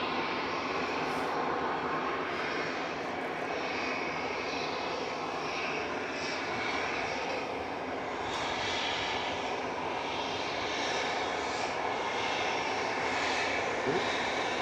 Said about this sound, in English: And this is an EasyJet.